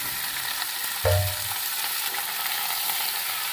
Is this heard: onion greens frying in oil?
yes